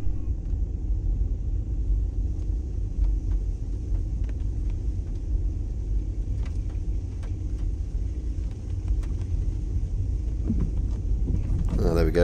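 A car drives along a narrow country lane in Guernsey, heard from inside as a steady low engine and road rumble lasting the whole stretch, with faint ticks and rattles over it.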